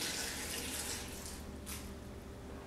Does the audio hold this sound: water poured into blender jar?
yes